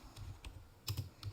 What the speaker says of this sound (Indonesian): Caranya kita ketikkan Python